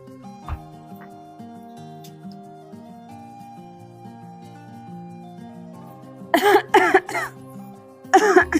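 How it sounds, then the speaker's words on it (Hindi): A woman coughs and clears her throat in a short burst of harsh coughs near the end, with gentle background music playing beforehand in a domestic Hindi family drama scene about fever and illness. "बेटा मुझको बुखार और खांसी हो रही है, दवा ले आना बेटा।"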